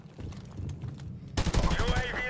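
SMG gunfire in Modern Warfare Remastered, a short burst of rapid, close automatic shots that comes after a stretch of quieter game sounds and soft voices.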